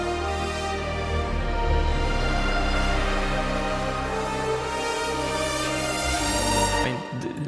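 Orchestral string section pushed through heavy EQ boost, sounding overly clean and bright, with sustained layered chords held steadily for about seven seconds before cutting off abruptly.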